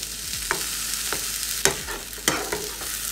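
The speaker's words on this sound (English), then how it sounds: "I'm gonna add my eggs. And now just mix it in." Eggs stirred into a hot frying pan, a continuous sizzle broken by several sharp scraping strokes of the spatula, close and loud, with no voices.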